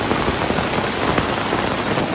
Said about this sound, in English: All that rain pools up on this awning is not good for it.